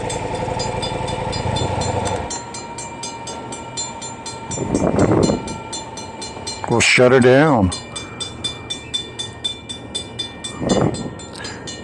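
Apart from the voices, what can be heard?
train passing on main railway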